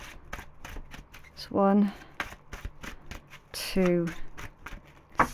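Tarot cards are riffled and shuffled up close in two quick bursts, with a person softly counting aloud between them.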